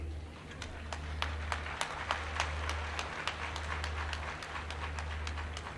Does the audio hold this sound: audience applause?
yes